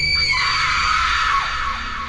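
A woman's long, loud, sustained scream of terror fills the moment, high and piercing with no pause, set in an Indonesian horror story scene of a bedroom door slamming shut.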